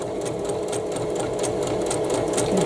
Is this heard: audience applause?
no